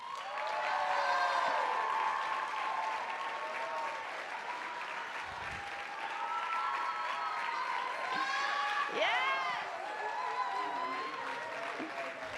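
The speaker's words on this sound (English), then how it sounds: "please help me give a big round of applause to our speaker in the spotlight, Miss Sophia." Audience applause for a speaker at a TEDx event fills the room, a steady crowd clapping that swells and holds for several seconds at moderate loudness, heard slightly distant.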